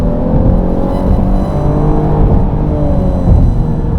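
A 2019 Chevrolet Blazer RS with a 303-horsepower V6 accelerates, giving a loud, steady engine drone heard from inside the car with no talking.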